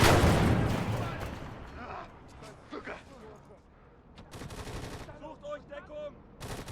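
Tank cannon fire in the World War II video game Gates of Hell booms loudly at the start and fades into rumble, followed by a few softer distant shots, while someone talks over it.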